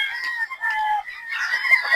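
Chickens on a poultry farm of about 410 birds, clucking and crowing close by in overlapping bursts, one call rising after another with no pause.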